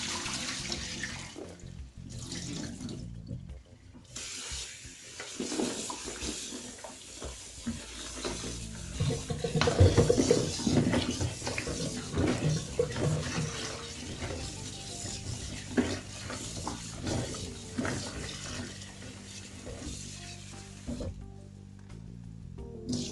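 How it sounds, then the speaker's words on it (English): Okra being washed under a running kitchen tap for a Nigerian spinach and okra soup, a steady close splashing stream of water with some handling noises, louder in the middle and without speech. "While the meat is cooking, I'm going to go ahead and slice my okra. I want to wash it"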